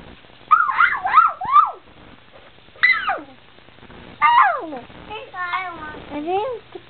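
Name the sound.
child imitating a cat meow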